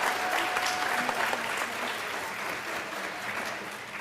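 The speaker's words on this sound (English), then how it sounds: "Let's give them another round of applause." Sustained audience applause at the Chilispiel pageant, a dense, steady wash of many hands clapping that holds loud and even for the whole stretch, with no voices rising above it.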